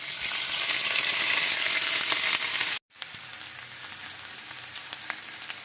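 Gola kebabs fry on a bed of onions and capsicum with a loud continuous sizzle, a brief drop to near silence midway, then a quieter steady crackle resumes.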